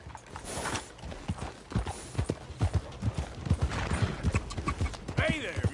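Horse hooves clip-clop in a steady rhythmic gait in Red Dead Redemption 2, close and clear, with faint game voices and ambient sounds underneath.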